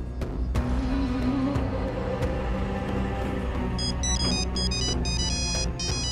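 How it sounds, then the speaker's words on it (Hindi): A phone ringtone chirps in repeated bright electronic bursts over a loud, rumbling background. "अमार का फोन है, तुम बात करो"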